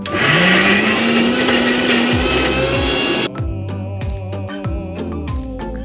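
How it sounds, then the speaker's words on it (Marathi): A kitchen mixer grinder whirs loudly as it blends a paste with a little added water, stops briefly, then restarts in short pulsing bursts. "आता थोडंसं पाणी ॲड करूया आणि पुन्हा एकदा मिक्सरमध्ये फिरवूया."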